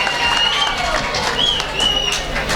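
A wedding-celebration audience in Malegaon applauds to welcome the ghazal poet Masood Malik to the microphone: a steady, dense wash of clapping with a few high whistles runs through the whole stretch.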